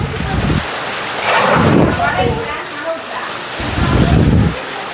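Heavy rain pours down in a village, a dense, close hiss of drops hammering surfaces that swells in loud surges with low rumbling underneath.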